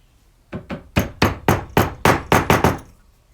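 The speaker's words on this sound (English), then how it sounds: "We're going to punch out our bolt release." Hammer blows drive a punch against a rifle's bolt release pin during a Savage centerfire trigger installation, about ten sharp close metallic strikes in a steady, quickening rhythm, loud and alone.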